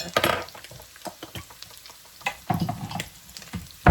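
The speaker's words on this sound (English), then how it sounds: "Toast up the garlic with these." Garlic toasting in a pan for a shepherd's pie gnocchi dish, with sharp scraping stirs and clinks of a utensil over a low sizzle, loudest in bursts near the start, middle and end.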